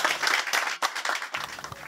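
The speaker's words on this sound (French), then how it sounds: "Acclamation, s'il vous plaît." Audience applause at a road safety remembrance ceremony in Gabon, a burst of dense clapping that briefly dips and then resumes, fairly loud and close with no talk over it.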